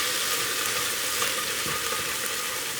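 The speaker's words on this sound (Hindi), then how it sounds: "अब इसमें हम लहसुन अदरक का पेस्ट डालेंगे," Ginger garlic paste fries with lightly browned onions in a pan while cooking Punjabi rajma masala, giving a steady, close, hissing sizzle that runs unbroken throughout.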